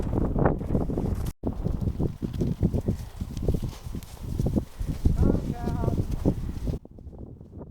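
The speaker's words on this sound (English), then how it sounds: "It's really windy, so I probably can't even talk." Strong gusts batter the microphone on a cattle farm, heavy rumbling buffets rising and falling in uneven surges, with rustling and farm-animal movement underneath before a sudden drop to near quiet.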